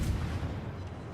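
Deep, booming naval gunfire from an Akizuki-class Japanese destroyer in World of Warships, a heavy low rumble that rolls steadily through the whole moment with no voices over it.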